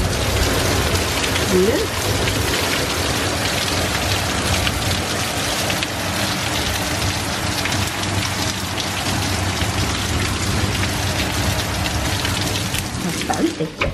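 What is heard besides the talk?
heavy rain downpour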